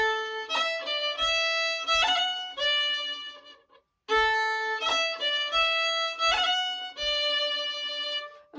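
A march played up to speed on a solo melody instrument in two bright, steady phrases with clear ornamented notes, broken by a short gap midway.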